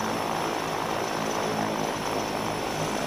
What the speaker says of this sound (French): Ça arrive en avion direct.